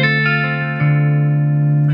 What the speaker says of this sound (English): Here's the clean tone.